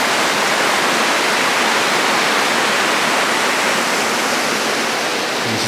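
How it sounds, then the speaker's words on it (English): Water rushes steadily through a sluice beside a river lane, a loud, dense, unbroken roar filling the whole stretch with no voices. "It looks like there's a bit of a sluice"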